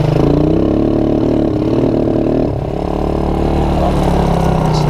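Suzuki Quadrunner LT230E flat track racer running rough on too much choke, wet conditions: a loud, close, throbbing single-cylinder idle with uneven low burble, dipping slightly midway and steadying again, no talk.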